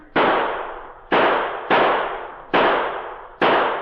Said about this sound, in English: Those men are shooting at us!